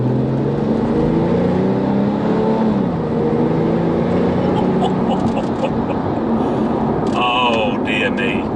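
A 480bhp Porsche 911 (997) Turbo Gen 1.5 driving on a winding road, its engine droning loud and steady from inside the cabin, pitch rising and falling with gear changes and throttle.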